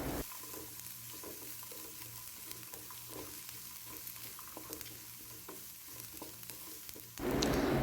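Dried red chillies and curry leaves sauté in hot oil with a soft, steady sizzle and regular stirring scrapes, fairly quiet, and a louder burst of hiss near the end.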